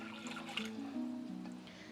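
Water runs and gurgles into a pressure cooker holding lentils, a close, continuous pour with a few splashy bursts over two seconds and no speech.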